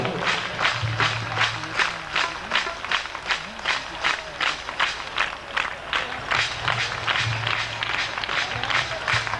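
Audience clapping at an anniversary meeting, steady rhythmic applause from a crowd that continues throughout with faint voices beneath.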